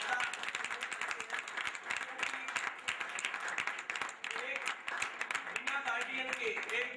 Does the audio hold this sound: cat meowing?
no